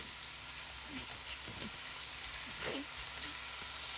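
Diced beef pieces sizzle in an oiled pan, a quiet, even frying hiss with small crackles, close and continuous, with no talk over it.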